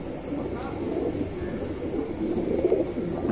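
A male pigeon coos softly in low, rolling murmurs close by, with a faint background hum throughout.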